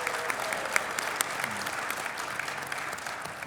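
A seminar audience at a Scottsdale sports car market event claps for a pick, a brief, moderately distant patter of applause with scattered sharper claps, steady throughout and without speech.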